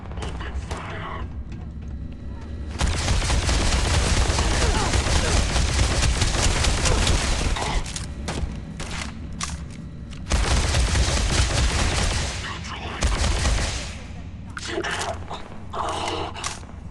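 Rapid sustained gunfire in a Starfield firefight, loud dense bursts rattling for several seconds, pausing and resuming in shorter volleys with scattered single shots and in-game voices.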